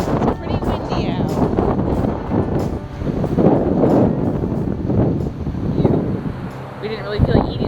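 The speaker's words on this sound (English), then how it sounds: "It's pretty windy out." Strong wind buffets the microphone outdoors near Mobile Bay, a steady low roar and rumble that runs through the whole stretch without letup.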